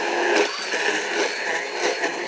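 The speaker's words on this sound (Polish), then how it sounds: "Tak będziemy mieszać. Blenderem." A household blender mixes Nutella ice cream ingredients in a cup, a steady close whirring drone running throughout without any speech.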